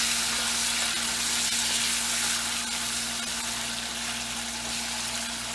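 Chicken livers for a Jamaican dinner fry in a hot pan on high heat, a loud, continuous sizzle and crackle that stays steady and close the whole time over a faint low hum, with no voices.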